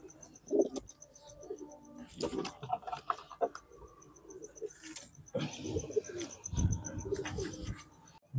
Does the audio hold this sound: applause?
no